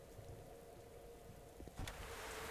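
Rain inside a building in the XCOM Enemy Within video game, a soft steady patter over a low hum, with a few brief louder knocks near the end.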